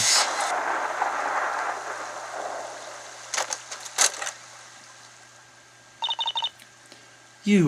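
A rainstorm with thunder in the video game Professor Layton vs. Phoenix Wright: Ace Attorney, steady rain hiss fading over a low hum, broken by sharp crackling bursts and a final loud crash.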